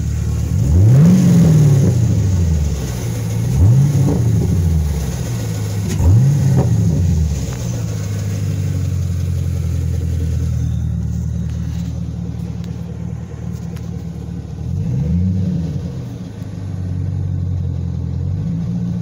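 A Chevrolet Camaro engine with a plastic weight inside revs repeatedly, several rising and falling throttle blips over a steady loud idle rumble, close up and with no talking.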